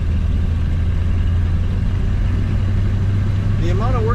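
A 1935 Pierce-Arrow 845 limousine engine running quietly, a steady low hum and rumble heard from inside the car, continuous throughout with a brief squeak near the end.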